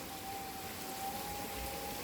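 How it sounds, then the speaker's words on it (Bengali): Heavy rain pours steadily on a cloudy day, a dense, even hiss with no break, heard alone at moderate distance. "এত বৃষ্টি হচ্ছে একদম"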